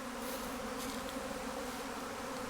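A confused honey bee swarm mills around low to the ground near its clipped queen, giving a steady, dense, moderately faint buzz with no gaps and no voices.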